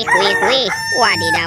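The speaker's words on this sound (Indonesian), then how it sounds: "ayam berkokok." A toy rooster crows with a bright electronic cock-a-doodle-doo, close and loud, while a man exclaims excitedly over it.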